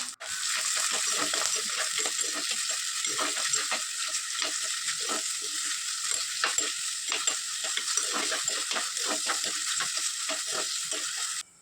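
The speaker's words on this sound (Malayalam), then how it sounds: "അപ്പോൾ അതെ ചട്ടി അടുപ്പത്ത് വെച്ചിട്ടുണ്ട് വെളിച്ചെണ്ണ ഒഴിച്ചു സവോളയും പച്ചമുളകും ഇഞ്ചിയും കറിവേപ്പില ഇട്ട് കൊടുത്തിട്ടുണ്ട്" Onion, green chilli, ginger and curry leaves fry in coconut oil in a clay pan, a loud, continuous close sizzle with scraping stirring strokes throughout and no voices.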